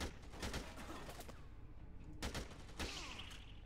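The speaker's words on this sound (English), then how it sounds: "You just hose them down with sprays of bullets." Gunfire sprays in rapid bursts in Dead Rising 2: Off The Record, with a sharp volley at the start and two loud shots later, faint overall beneath game ambience.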